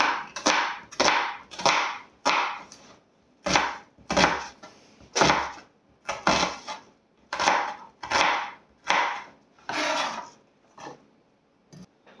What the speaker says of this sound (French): On va découper grossièrement l'oignon rouge.